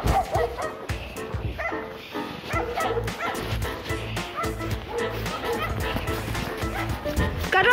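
On a snowy winter walk a dog keeps up a string of close, excited yips and barks with occasional whimpering, while voices talk over it.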